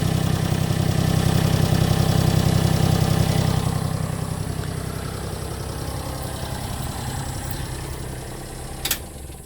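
A 1992 Honda Acty SDX van's small engine idles steadily with a low, even rumble, a little louder at first, then settling; a faint click near the end.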